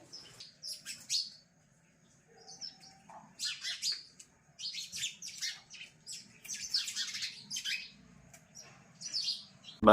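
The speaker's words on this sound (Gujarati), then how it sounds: "મસ્ત ચકલીઓ જો ખાવા માટે આવી ગઈ છે" Sparrows chirp and tweet in quick, scattered bursts while feeding, fairly close, with a low hum underneath and brief pauses between flurries of calls.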